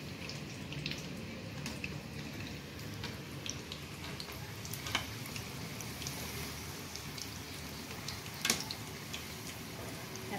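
Singaras frying in very hot oil on a gas stove, a steady soft bubbling hiss throughout with occasional faint pops and crackles.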